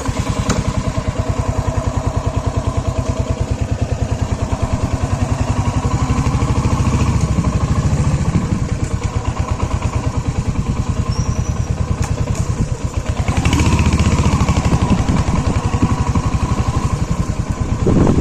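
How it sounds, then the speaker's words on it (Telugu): A Royal Enfield Hunter 350 motorcycle engine idles close by with a steady, even thumping beat that swells slightly louder toward the end, with no one speaking. "So this is the beat of Hunter 350."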